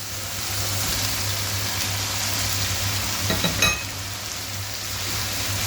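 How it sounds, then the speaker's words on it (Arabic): Mushrooms sautéing with vegetables and chicken in a hot pan make a continuous close sizzle, broken briefly by a few clinks and scrapes of stirring. "اقعد اشوح فيه شويه"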